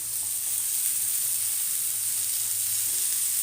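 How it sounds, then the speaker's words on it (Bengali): Whole spices and cumin seeds sizzle in hot oil for a Bengali potato and soybean curry, a constant, fairly quiet frying hiss with no break. "এবার আমি এখানে কিছু গোটা মশলা অ্যাড করে নেব"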